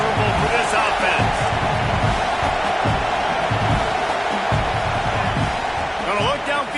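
A stadium crowd roars steadily at a college football game between Michigan and Oregon, a loud, continuous wash of cheering and noise that fills the whole stretch, with a commentator's voice running over it.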